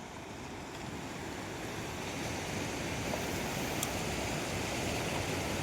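The Par river, flooded after heavy rain, rushes in a steady, broad roar of churning water, loud and continuous with no voices.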